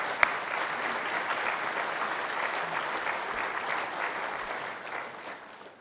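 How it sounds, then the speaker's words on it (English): A large audience claps at a Liverpool University graduation ceremony for the School of Environmental Sciences, a sustained wash of applause heard from inside the hall that holds steady, then fades slightly at the end. "They get a round of applause for that."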